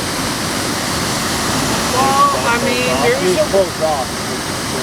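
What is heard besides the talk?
waterfall cascades on the Bad River Gorge, Wisconsin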